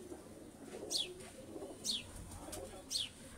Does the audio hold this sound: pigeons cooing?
yes